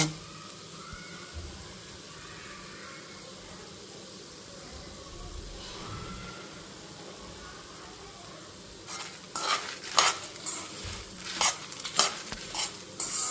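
Curry leaves and cumin fry in a pan over low heat, giving a low, steady sizzle. Near the end a run of sharp clinking stirring scrapes from a spoon against the pan grows louder, close and with no talk.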